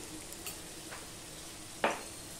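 Onion and potato fry together in a pan as a quiet, even sizzle, with a few soft stirs and one sharper spatula scrape just before the end.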